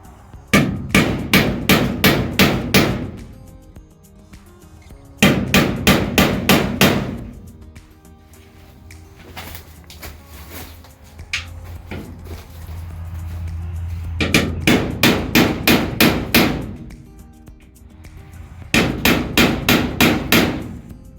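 Bursts of rapid, sharp metallic hammer strikes on a center punch into metal, four groups of quick repeated blows, separated by quieter pauses with faint clatter.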